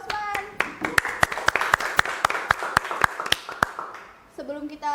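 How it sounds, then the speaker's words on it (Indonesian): A small audience claps for a guest at a school podcast recording. The close hand claps are sharp and distinct, in a fairly regular run of about twenty, and voices are heard just before and after. "Tepuk tangan untuk Bapak Usman."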